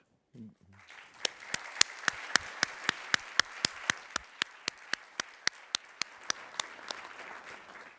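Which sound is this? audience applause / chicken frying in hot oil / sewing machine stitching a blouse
audience applause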